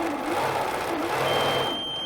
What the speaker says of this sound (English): it starts beeping at me if I go too fast for it.